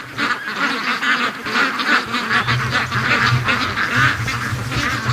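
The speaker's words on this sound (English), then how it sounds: "Oh, the ducks are coming back up." Free-range ducks quack as they head back up from the lake, a near, continuous chorus of overlapping raspy quacks and honk-like calls in a busy, repeating rhythm.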